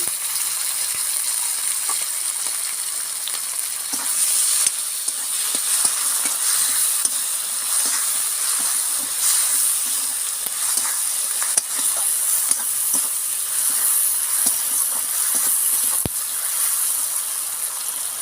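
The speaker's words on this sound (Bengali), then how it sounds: "এবার আমি টমেটোটা দিয়ে ভেজে" Chopped tomato fries with onion in an oily pan for an egg and pointed gourd curry with yogurt. The sizzling is loud and steady up close, with scraping stirs breaking through the hiss.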